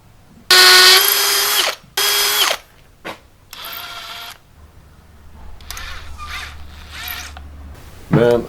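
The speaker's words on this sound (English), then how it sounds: "next up I'm gonna mark the position for the holes to be drilled" A power drill whirs loudly in several bursts while boring holes into a wall for a clothes line mount, separated by short pauses and quieter clicks and handling noise.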